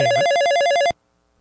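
An old-fashioned telephone bell rings loud and rapid in the Police Quest video game, a single burst that cuts off abruptly, followed by near silence.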